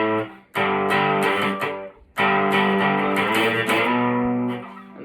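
A distorted electric guitar plays a riff in power chords: two loud strummed bursts of rapid chugging chords with a brief gap between them, close and alone.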